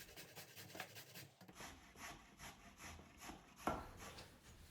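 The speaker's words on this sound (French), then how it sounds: "Je vais râper une carotte à l'aide d'un râpeur." A carrot rubbed against a hand grater in a home kitchen, steady rhythmic rasping strokes close by with no talk, ending in a sharper scrape.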